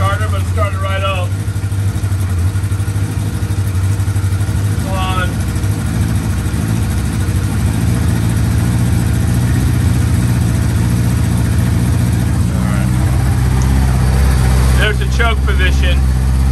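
A 1984 Kawasaki KZ1100 LTD motorcycle idles steadily with a low, throbbing rumble, while someone talks intermittently close by over the engine.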